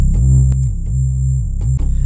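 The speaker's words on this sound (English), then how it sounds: "Without it, your bass would sound like this." A synth bass plays without compressor sustain, its low notes thick and throbbing, each one swelling and then fading in repeated pulses with a faint high steady hum behind them.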